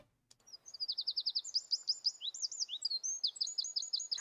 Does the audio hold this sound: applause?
no